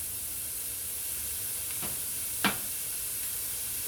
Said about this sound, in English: so that it will get a little sizzle going, like so